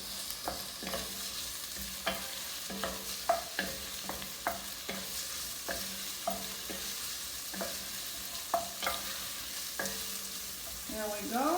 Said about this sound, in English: So we saute the meat.